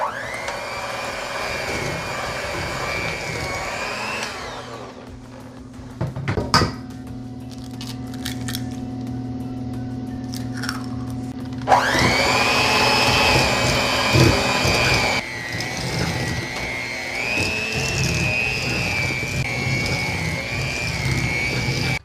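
An electric mixer whirs steadily while beating an egg into snickerdoodle cupcake batter. It drones loudly and then cuts out briefly with clinks and clatter. It starts again at a high, even pitch and keeps running to the end.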